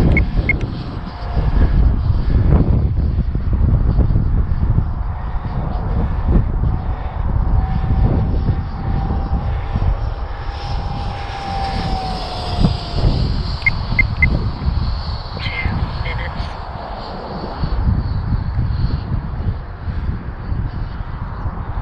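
A 25-inch balsa scratch-built EDF Gnat radio-controlled model jet climbs at full throttle on its maiden flight, a steady loud ducted-fan whine and rushing roar that holds for the whole stretch with some wind buffeting.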